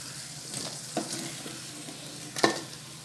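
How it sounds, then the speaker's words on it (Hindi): Paneer cubes fry in leftover oil in a pan, giving a soft steady sizzle with a few stirring scrapes and clicks from a utensil, close and unaccompanied by talk. "अब इसी बचे हुए तेल में मैं पनीर के क्यूब्स को भी फ्राई कर लेती हूँ।"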